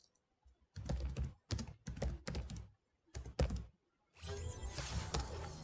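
Fingers type on a computer keyboard in several short bursts of close, crisp key clicks separated by pauses, followed by a denser, louder stretch of sound at the end.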